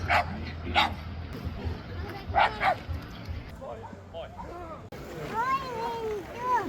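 A dog at an outdoor wilderness and hunting fair barks several times in sharp, close bursts, with yelping notes mixed in, while people chat nearby over a busy crowd background.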